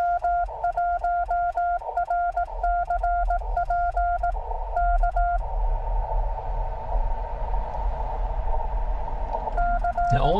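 Morse code CW keyed on a metal paddle during a portable radio operation, beeping as a clear rhythmic series of short and long tones over a low background hum, then pausing into a steady buzz before a final burst of keying.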